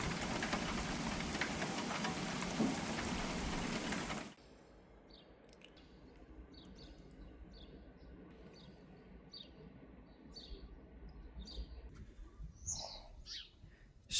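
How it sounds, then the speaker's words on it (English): Steady heavy rain hisses loudly for a few seconds, then cuts off, leaving quiet ambience with scattered bird chirps and tweets. "And there's the rain."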